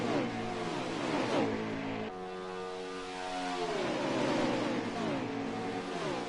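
A large pack of about twenty race cars in the video game NASCAR Heat 5 roars past together. Layered engine drones rise and fall in pitch as they pass, loud and steady without talk.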